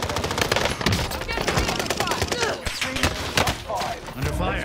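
Rapid bursts of video game gunfire crackle in dense, overlapping volleys, a busy automatic-fire barrage running throughout with scattered thuds, while players talk over it.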